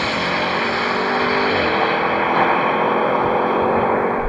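BMW M5, Audi RS6 and AMG E63 S accelerating side by side in a drag race on a runway track, a loud, continuous engine roar with one audible gear change partway through.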